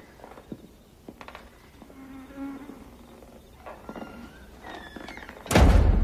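A mosquito whines close by in a thin, wavering buzz that drifts in pitch over several seconds, ending in a sudden loud slap or thump.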